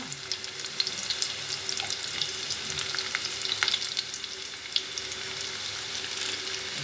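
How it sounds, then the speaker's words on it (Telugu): Onions fry in a pan for a dried prawn and ridge gourd curry, a steady light sizzle with scattered crackles and occasional stirring scrapes, fairly quiet and close, with no talking. "ఉల్లిపాయలు వేసుకొని, ఉల్లిపాయలు వేగిన తర్వాత"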